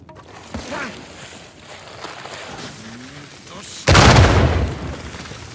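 Exploding mummies in the video game Uncharted 4 set off a sudden, loud, deep blast that booms and rumbles before fading, following quieter rustling and game voices.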